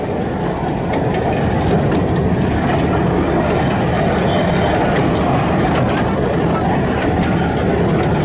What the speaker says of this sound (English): It's a nice train ride this though, it takes you all the way around the park